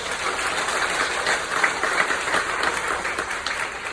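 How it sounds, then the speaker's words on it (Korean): A congregation at a Sunday afternoon church service claps in thanks for the worship team and Sunday school. The applause is sustained, even and crowd-wide, heard moderately loud in a large hall. "찬양으로 영광 돌린 감사하는 목장과 주일학교에 박수하겠습니다"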